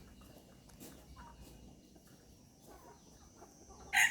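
Soft, faint clucking from bantam chickens outdoors on a farm in Chanthaburi, Thailand, scattered among low background noise, with one louder sharp burst at the very end.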